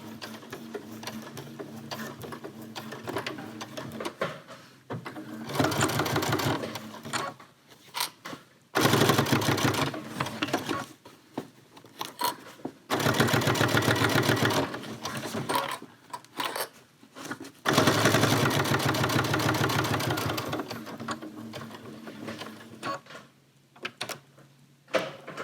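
A sewing machine stitches backward and forward across the clipped ends of a zip pouch, running in several loud, steady bursts separated by brief pauses, with no talking.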